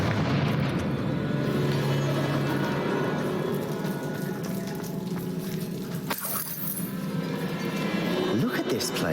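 A Confringo spell explosion in Hogwarts Legacy on PC: a dense, sustained rumbling blast with crackling debris that fills the whole stretch at steady loudness, while a voice speaks over it.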